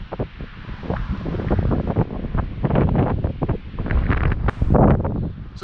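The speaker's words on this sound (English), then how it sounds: "but it's very, very windy." Strong foehn wind in the Chamonix mountains roars and buffets continuously, gusting louder and softer with a rough, rumbling texture and no voices.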